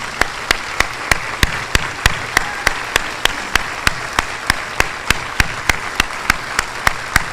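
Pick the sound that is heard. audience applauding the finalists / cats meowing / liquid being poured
audience applauding the finalists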